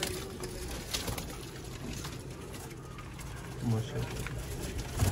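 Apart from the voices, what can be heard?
pigeons at a Sialkot pigeon-keeping loft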